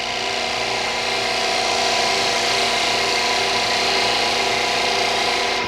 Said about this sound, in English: I'm going to pick up my spindle gouge, which has got a steeper angle grind on it, and I'm going to just roll a little bead here.